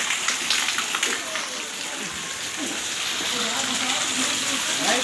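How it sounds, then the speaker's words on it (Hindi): Heavy rain pours down in a steady, dense wash of broadband noise with faint splashing throughout, with a voice talking over it. "ये पानी है बारिश का।"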